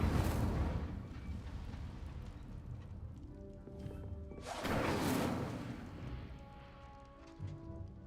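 Fiery spell blasts cast in Hogwarts Legacy, a roaring whoosh that swells around the five-second mark over dense, rumbling game ambience with no talking.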